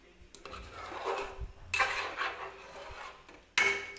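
Chicken pulao being stirred with added water in a pot brings a few close scrapes and clinks of a spoon against the metal, with a sloshing swirl in between and quiet pauses, no talk.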